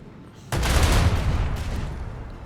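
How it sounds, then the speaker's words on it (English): Heavy gunfire erupts suddenly in a space battle in Warhammer 40K Rogue Trader, a loud, sustained roaring barrage of rapid shots aimed at incoming torpedoes that rumbles on with a second burst before easing slightly. "Stop shooting my torpedoes"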